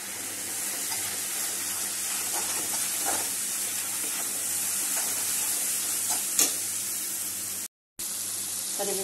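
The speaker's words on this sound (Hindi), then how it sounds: "करीब से 10 मिनट भून लेंगे" Turmeric, coriander and chili spices fry in a pan with a steady, close sizzle and faint stirring, broken by a brief dropout near the end.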